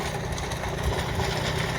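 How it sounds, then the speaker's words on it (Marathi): A large tractor engine runs steadily, giving a continuous low, even rumble with no breaks or revving across the short stretch. "आता जवळजवळ 1 तास झालं ट्रॅक्टर चालतं. मोठ्या ट्रॅक्टरचं 1 तास बसते लोटर."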